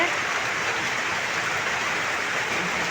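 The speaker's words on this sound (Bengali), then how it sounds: "বৃষ্টি আসছে" Rain falls as a steady, even hiss at moderate distance, unbroken for a few seconds with no other sound.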